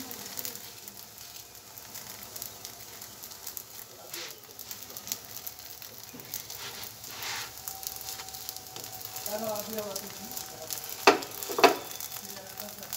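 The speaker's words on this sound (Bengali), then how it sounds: "এইভাবে চেপে চেপে ভাজি করবেন।" An aloo paratha frying in a little oil on a pan while being pressed down, giving a soft continuous sizzle with faint scraping and pressing sounds and a few brighter clicks near the end, quiet and without speech.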